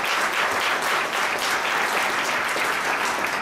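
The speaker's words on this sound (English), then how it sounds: "you can give them a round of applause" Steady, dense applause from an audience at a speech by Mayor Redd in Camden, continuous and fairly loud throughout with no talk over it.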